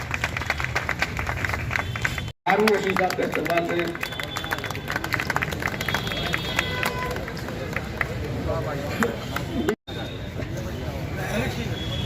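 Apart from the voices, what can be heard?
audience applause at award ceremony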